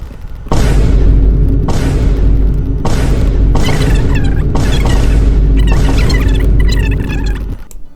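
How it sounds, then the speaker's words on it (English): Destroying dragon fruit trees with a shovel in Roblox Grow a Garden produces a run of loud, booming bursts, about six in close succession, each cutting off abruptly before the next. "So we're just going to destroy every single dragon fruit tree right here."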